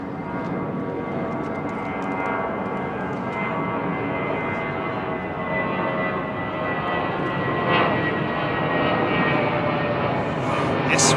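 An aircraft at the east end of runway 09 at London Heathrow Airport, near Hatton Cross, producing a loud, steady engine roar that swells slightly toward the end, with voices faintly under it.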